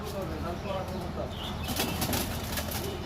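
Purple-necked pigeons flap their wings in a rustling flurry that grows stronger partway through, heard close over a steady background hiss at a home loft.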